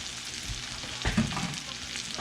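Meat frying in its rendered fat in a pot, a dense steady sizzle and crackle with a few stirring scrapes, close and alone.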